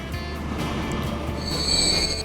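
Train wheels squeal in the Transport Fever game, a high metallic whine that swells toward the end over a steady rolling rumble, with no voices.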